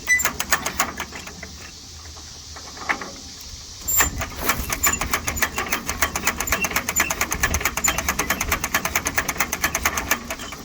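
A 1936 Farmall F20 tractor engine with a badly flooding carburetor being hand cranked: after a quieter start, a rapid run of rhythmic mechanical clacks and knocks sets in and continues steadily, close by, without firing into a clean run.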